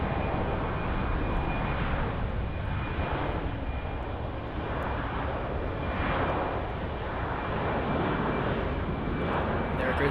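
Airliner taking off down runway 08 left at Munich Airport on a summer afternoon, a steady broad engine roar holding loud and even for the full stretch, with no talk over it.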